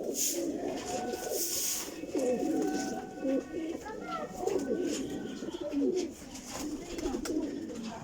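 A group of mixed flying pigeons in Jhelum coo steadily at close range, their burbling calls overlapping continuously, with someone talking beneath the chorus.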